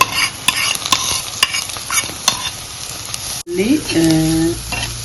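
Chopped onion and garlic fry in a hot pan for fish curry, with a steady loud sizzle and clacking stirring strokes, and a brief break followed by a spoon scraping the pan.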